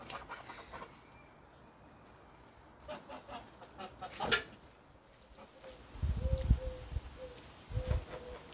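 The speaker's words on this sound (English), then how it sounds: "Time to annoy the geese" Geese on a farm honk a few times from roughly mid-distance, with short bursts in the second half over a quiet outdoor background and no talking.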